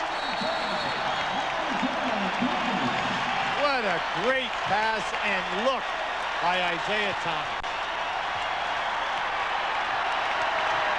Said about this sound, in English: The crowd on their feet here at the Palace.